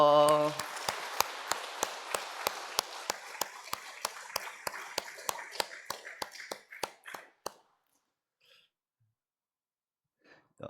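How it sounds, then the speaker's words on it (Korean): A church congregation claps in welcome during a Sunday service, a rhythmic run of evenly spaced claps that thins and fades out after about seven seconds, followed by near silence with a couple of faint sounds. "우리 환영의 박수로 맞이하도록 하겠습니다"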